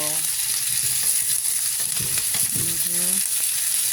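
Vegetables and potatoes sautéing beside heating chicken liver, a loud steady frying sizzle with stirring scrapes, and a voice murmuring faintly underneath.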